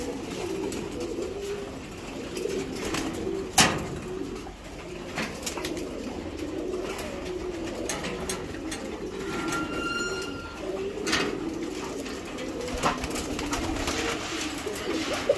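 Giribaz pigeons coo in a loft with male and female birds, a low steady murmuring that runs through the whole stretch with one sharp knock or flap partway in, a fairly close and moderate flock sound.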